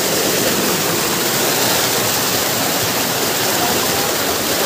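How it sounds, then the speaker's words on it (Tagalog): A natural waterfall pours with a steady, loud, broadband roar of falling water, continuous and close throughout with no break or voices. "makikita nyo talaga yung natural na bagsakan ng tubig"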